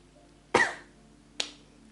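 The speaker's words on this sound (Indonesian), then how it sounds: "Aduh, pengen nyanyi tapi batuk." Two close coughs, the first louder and fuller, the second shorter, with quiet between them.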